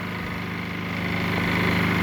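A generator powers an RV air conditioner's fan blower motor, making a steady low droning hum that swells slightly louder toward the end, with no voices.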